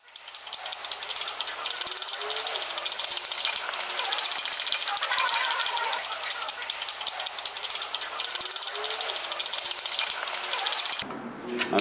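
Hand pump of a hydraulic press working a water pump shaft into place during a Rolls-Royce Corniche water pump overhaul, a steady run of dense mechanical clicking and ratcheting strokes that continues nearly unbroken before cutting off near the end.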